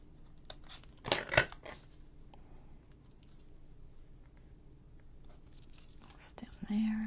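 Paper pieces for a junk journal are snipped in half with scissors: two or three quick, close cuts in a burst, then quiet paper handling and light rustling.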